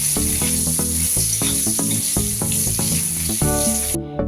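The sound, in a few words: eggplant pieces frying in hot oil with turmeric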